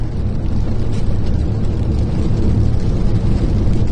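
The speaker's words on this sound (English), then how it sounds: "Instead of idling at 450 in park, it idles at 650." A storm-chase vehicle's engine sits at high idle in park, around 650 rpm, with its lights and electronics running, giving a loud, steady, unbroken low rumble with no talking.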